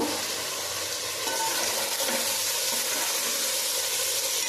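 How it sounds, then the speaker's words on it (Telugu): Beef curry for biryani cooking in its own meat juices with no added water, giving a loud, constant close-up sizzle and bubbling with no talking. "మాంసం నుంచి వచ్చిన వాటర్ తోటే చక్కగా కూర అయితే ఉడుకుతూ ఉందండి"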